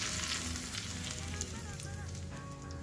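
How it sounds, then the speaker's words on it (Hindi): Hot tadka of curry leaves and chilli in oil sizzles and crackles steadily and close up, a continuous frying hiss with small pops, meant to be poured over Navratri dhokla. "अब इसमें हम डालेंगे कड़ी पत्ता, और बस ये जो गर्मा गर्म तड़का है वो हम ढोकले के ऊपर चढ़ा देंगे।"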